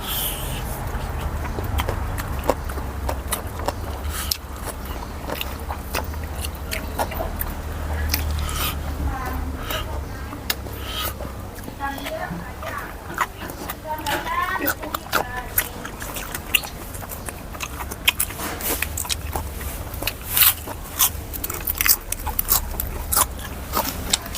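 Close, wet chewing and biting on fried Isan sausage eaten with spicy papaya salad. The crunchy, smacking sounds repeat irregularly throughout, with some talking mixed in.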